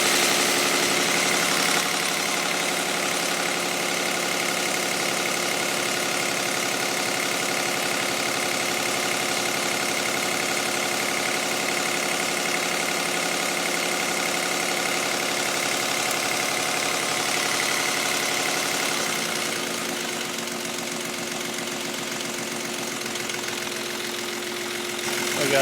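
A diesel engine fitted with a Stanadyne DB4 injection pump idles steadily with a loud, even drone that keeps going throughout, its tone shifting slightly lower toward the end.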